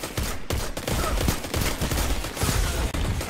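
Rapid sustained gunfire in the online shooter Destiny 2 during a Crucible match, dense overlapping bursts and fusillades at close range, loud and continuous with no voices.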